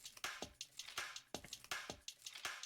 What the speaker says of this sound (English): this percussion loop called making popcorn